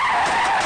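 A car's tires skid loudly and continuously across the surface, a sustained harsh squealing scrape close by, with no talk over it.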